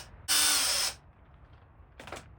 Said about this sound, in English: I'm just going to run my drill in here, and it'll go right through the plastic.